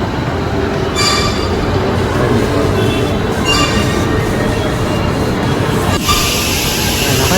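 A ride train at Suoi Tien theme park in Ho Chi Minh City runs close by, giving a loud continuous rumble of wheels on track with brief squealing tones, steady from start to finish.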